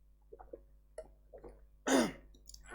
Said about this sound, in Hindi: खांसी भी बहुत ज़्यादा हो रही है।